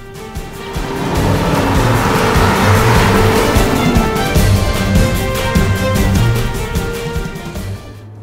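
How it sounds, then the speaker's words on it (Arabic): A 2018 Maserati GranCabrio being driven in normal mode, with a steady engine drone and road rumble heard from inside the car, smooth and continuous with a faint rhythmic ticking and no voices. "حالياً أنا عم بقود السيارة بوضعها العادي، وبهذا الوضع السيارة عم تعطيك مع الجراند كابريو قيادة سهلة ومريحة وهادئة"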